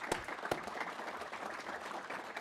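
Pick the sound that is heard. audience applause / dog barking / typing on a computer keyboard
audience applause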